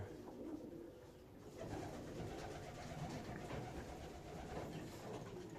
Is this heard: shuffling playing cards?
no